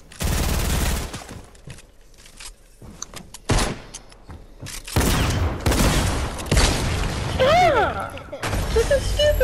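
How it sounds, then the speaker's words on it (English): Bursts of gunfire and explosions from a Fortnite Zone Wars match crackle in loud irregular clusters, mixed with excited players talking over them. "Splash damage, baby. The explosion radius."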